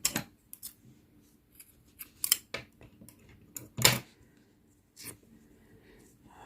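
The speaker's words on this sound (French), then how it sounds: "je vais couper le fil" Scissors cutting crochet yarn during amigurumi work: several crisp, close snips scattered irregularly over a quiet background, one a little louder than the rest.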